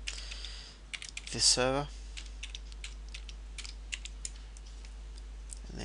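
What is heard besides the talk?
typing an IP address on a computer keyboard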